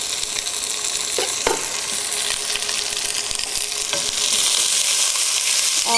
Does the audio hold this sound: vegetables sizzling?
yes